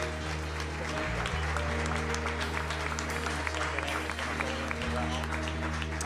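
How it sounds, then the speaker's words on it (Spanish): A church congregation applauds during a worship service, a sustained broad clatter of clapping over a steady low hum and tonal background, with a voice briefly present. "Fuertes aplausos a nuestro Dios."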